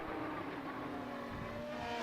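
An Aussie Race Car's engine in a racing video game hums at a steady pitch, faint and distant-sounding, with a slight rising tone and no audible speech during these two seconds.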